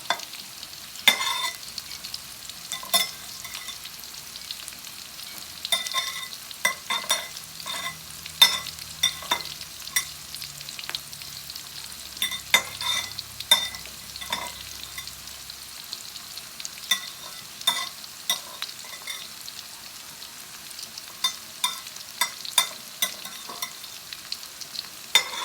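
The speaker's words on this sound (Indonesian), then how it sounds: "Kita tumis dulu bawang merahnya sampai matang." Shallots stir-fried in a pan for coto Makassar: a quiet, low sizzle broken by frequent sharp clicks and scrapes of a spatula against the pan, heard up close with no talking.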